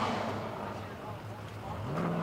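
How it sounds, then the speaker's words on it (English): A 1970 Ford Mustang Mach 1 race car engine burbles and rumbles at a distance coming out of a corner, rising in pitch near the end as it pulls away, with voices talking over it. "you'll hear it kind of bumble coming out of corners a little bit"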